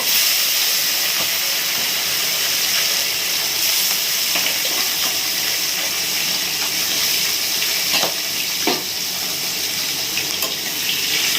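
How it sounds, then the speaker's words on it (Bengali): Fish frying in hot oil in a wok, a loud, dense, continuous hiss and crackle with a few sharper pops, steady throughout and close by, with no talk. "তো এই আমার তেল গরম হয়ে গেছে কড়াই এবার দিয়ে দেবো মাছ মাছগুলো ভেজে দেবো"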